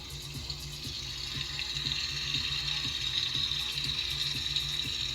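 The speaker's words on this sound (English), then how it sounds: "Nice sound effects, like a real washing machine." A Little Tikes toy washing machine plays its running sound effects: a faint, continuous watery fill-and-slosh with small repeating mechanical clicks.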